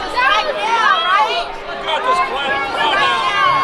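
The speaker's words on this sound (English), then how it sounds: "This crowd is not happy about that ump." Baseball crowd at Wintrust Field during a Frontier League championship game, bottom of the ninth, grumbling and murmuring in displeasure at the umpire; a steady, dense babble of many voices throughout, fairly close and loud.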